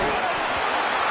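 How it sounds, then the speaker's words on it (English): A big tackle hit lands in an American football video game, a short dense thud within a loud crowd roar while a commentator talks over it. "Big hit. Knocks the ball away"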